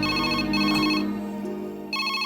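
A mobile phone's ringtone plays an incoming-call tune, a bright repeating melody of electronic tones heard close and clear, pausing briefly and then resuming.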